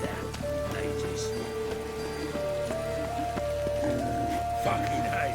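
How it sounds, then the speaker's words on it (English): Rain falling in The Witcher video game, a steady soft patter beneath sustained musical tones, with no talking. "Rain again."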